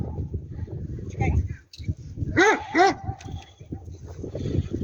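A Doberman at a dog club training session gives two sharp, close barks in quick succession, with people talking over and around them.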